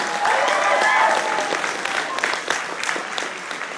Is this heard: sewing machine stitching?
no